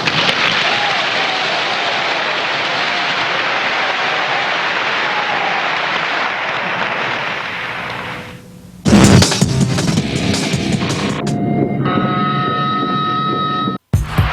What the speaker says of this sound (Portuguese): ouçam os gritos desta multidão de mulheres absolutamente transtornada pela gratidão e pelo amor a Salazar